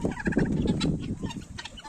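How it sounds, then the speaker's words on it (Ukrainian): Close, busy chatter from several Muscovy ducks, hissy, breathy calls and soft quacking grunts, fairly quiet, with no talking. "нас одна із наших сімейок мускусних качок."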